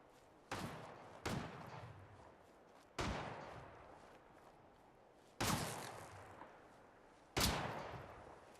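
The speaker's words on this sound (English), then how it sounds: "I hear gunshots." Gunshots in the video game Fallout 4, five sharp separate reports spaced a second or more apart, each with a short decaying tail over a quiet background.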